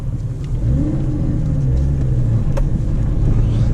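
Ford AU Falcon engine droning steadily at low revs while driving on a mountain road, a loud continuous rumble with a slight rise in pitch as it revs, no talking.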